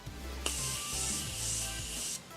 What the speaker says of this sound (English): I'm going to use my Morphe Continuous Setting Spray to set my whole makeup.